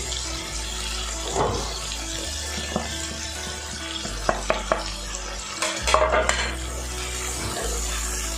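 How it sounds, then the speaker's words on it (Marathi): Ground coconut with ginger-garlic paste roasting in a pan for a village-style mutton rassa: steady low frying hiss with repeated scraping and stirring clatters of a spoon against the pan, louder knocks toward the end, no talking. "आणि आता हे मिश्रण 5 मिनिटं आपण छान असं भाजून घ्यायचं आहे बघा"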